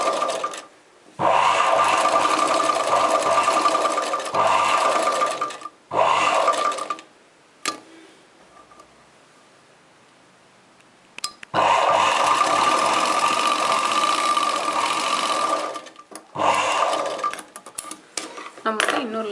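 A normal sewing machine stitching an embroidered chudidar neck design with mirror work runs in long steady whirring bursts, loud and close, stopping briefly between runs and pausing for several quiet seconds in the middle.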